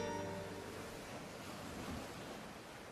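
Ocean waves on a Portuguese surf beach, a steady broadband wash of surf with some wind, moderately distant and continuous, fading slightly with no voices.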